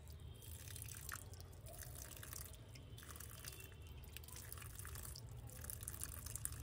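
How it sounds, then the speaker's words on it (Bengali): Water poured from above onto potted coriander seedlings, a quiet spatter and dripping that carries on steadily throughout, with no voices. "একটুখানি উপর দিক থেকে জল দিয়ে দিই।"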